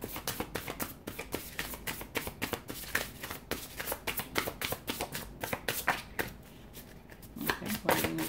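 Deck of reading cards being shuffled by hand, a close run of quick riffling and tapping bursts that continues steadily for several seconds without talk.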